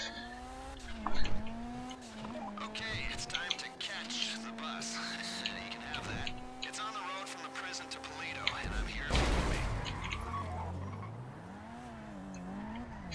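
A car in Grand Theft Auto V Online drives hard with engine whine and tyre squeal as it skids through turns, game sound effects mixed under someone talking over much of it.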